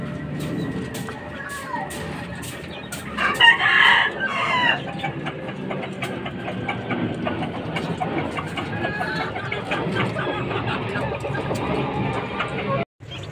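Fighting chickens and chicks in a backyard coop cluck and call repeatedly, with a loud squawking burst in the middle and continuous peeping and clucking throughout.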